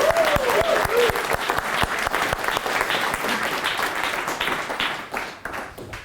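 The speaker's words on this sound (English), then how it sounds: "thank you for the applause" Enthusiastic audience applause welcoming a keynote speaker at a recovery communities workshop, a loud dense roar of clapping that starts with a few distinct claps, holds, then slowly thins toward the end.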